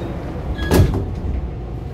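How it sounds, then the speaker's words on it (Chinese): Train doors slide shut at a station on an EMU commuter train, a single short thump and clatter rising over the low hum of the platform, with no talking. "关闭一下门。"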